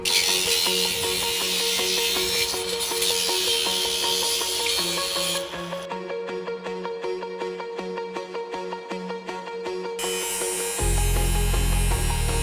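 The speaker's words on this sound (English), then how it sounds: "you'll have some sharp edges after you run the abrasive, the die grinder through the edge" Die grinder with an abrasive bit deburring the cut edges of aluminum railing channels, a loud, steady high-pitched whine with shifting grinding tones that drops away briefly midway, then returns with a heavier low buzz near the end.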